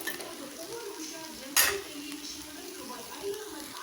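Fried cauliflower rice being stirred in a pan, with a steady low sizzle and faint scraping throughout and one sharp clatter of the utensil against the pan about halfway through.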